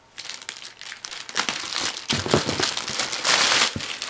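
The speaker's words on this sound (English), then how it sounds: "A lot of tape on this one." Packing tape is pulled and peeled off the packaging of an HP Pavilion 15 laptop, making close crinkling, crackling and ripping noises that build in bursts and grow louder toward the end, with no talking.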